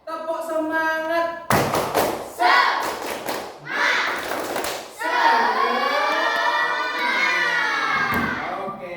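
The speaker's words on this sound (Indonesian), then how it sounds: "Tepuk semangat." Schoolchildren in a classroom do a rhythmic tepuk semangat spirit clap, with a burst of loud thumping claps and chanting, followed by sustained shouted, sung cheering from the group.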